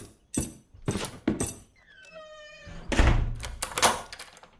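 Heavy thuds of fists pounding on locked wooden doors, several loud irregular blows in bursts, with a brief mechanical squeal between them.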